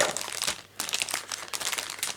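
Small plastic bag holding a few model kit screws, crinkled and handled up close in steady bursts of rustling with a short pause between, no voices.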